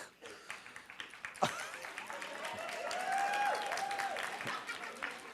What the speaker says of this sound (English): Isn't that interesting how all women are applauding?